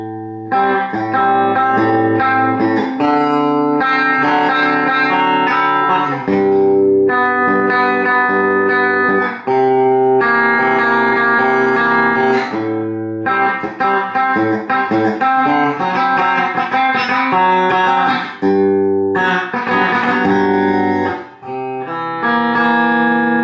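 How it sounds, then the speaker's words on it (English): An Ibanez ART300 electric guitar played through a Danelectro Pastrami Overdrive distortion pedal, loud, saturated chords and riffs ringing in sustained bursts with brief gaps, clear and close with no talk. "distortion, I'm using a Dan Electro Pastrami Overdrive"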